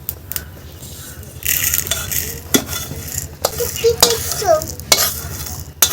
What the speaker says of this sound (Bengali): আমি এই মশলাগুলো একটুখানি ভেজে নিচ্ছি,